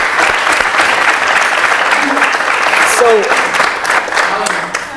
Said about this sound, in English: I think a big round of applause for everybody.